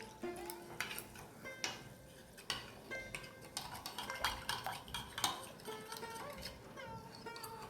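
Ingredients are mixed with water in a bowl for a homemade snack, a busy run of close clinks, scrapes and taps of a spoon against the dish.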